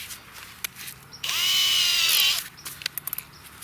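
A power drill whirs in one burst of about a second while boring a dirt hole in the ground for a trap set, rising and settling in pitch, framed by light clicks and handling noises.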